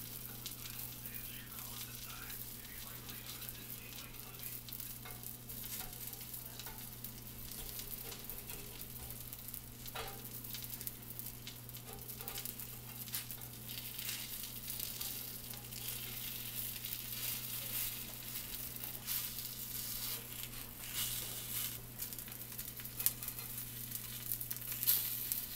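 Takoyaki batter sizzles quietly in a takoyaki pan while a tool scrapes along the cups and turns the balls, making irregular light clicks and scratches over a constant frying hiss.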